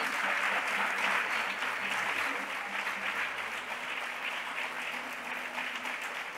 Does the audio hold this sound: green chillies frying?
no